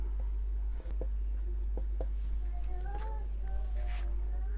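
Chalk or pen scratches out short strokes on a board during a Hindi geography lesson, quiet and close, with a steady low hum underneath.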